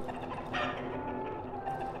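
Fowl in the Darkwood video game cluck and gobble softly, with a brief brighter call partway through, over a low ambient game background.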